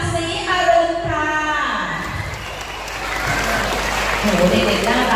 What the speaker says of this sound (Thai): มีเสียงปรบมือเป็นกำลังใจให้กับเพื่อนๆด้วย